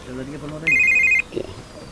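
A phone gives a short electronic ring of about half a second. A voice is heard just before it, and a few faint sounds follow.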